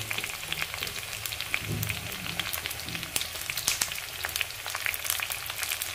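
Chopped onions fry in a pan for a chicken fry dish with a steady, close sizzle and crackle, dense popping spatter running continuously without talk.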